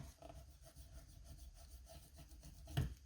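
An eraser rubs back and forth over a decorated candy box with a display window, making a faint, continuous, rhythmic scrubbing that ends in a slightly louder bump.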